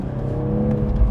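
A Toyota Supra with the B58 engine accelerates hard, a steady loud engine drone rising under load for about a second, heard close up with no talk.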